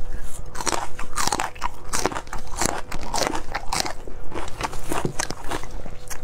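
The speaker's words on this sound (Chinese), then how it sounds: "配的我的小米辣一块吃啊" Loud close-up crunching and chewing while eating spicy noodles with small chili peppers, with repeated sharp bites and crackly crunches in an irregular rhythm and no talking.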